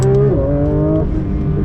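Porsche 911 GT3 RS pulling away, a loud, close engine note with a smooth rising then shifting tone over a steady roar, no talking.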